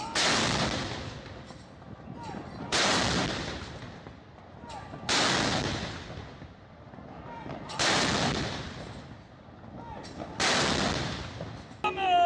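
A 105 mm light gun fires a ceremonial salute at a Republic Day parade: five loud, booming shots spaced about two and a half seconds apart, each with a long rolling echo trailing off.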